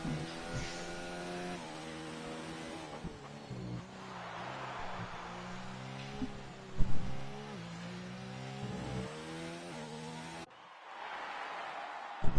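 F1 race cars in a racing video game, with a dense, continuous engine whine rising and falling in pitch as cars overtake each other, loud and steady for most of the clip, with a brief drop near the end.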